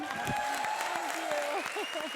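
A studio audience at a comedy show applauds an introduced guest, a steady even wash of clapping beneath a voice announcing over it.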